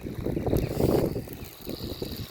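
A tractor plows a village field, its engine a low rumbling drone with a swell in the middle, heard at moderate distance with wind noise over it.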